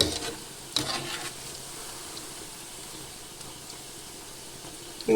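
Undalakaalu dough frying and being stirred in a pan, a steady low sizzle with a few louder scraping stirs near the start and a faint clatter at the end, no talking.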